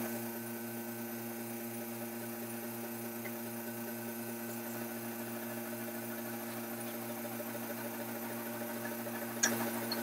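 A wood lathe spins a roughed-out bowl blank at low speed, giving a steady, even motor hum with a faint regular pulse from the rotation, continuous and close, with a brief tick near the end.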